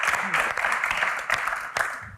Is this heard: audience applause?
yes